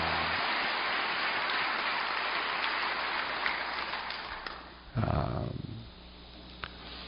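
A church congregation at a special dawn prayer service gives a round of thankful applause, a steady dense wash of clapping that drops off near the end with a brief louder burst.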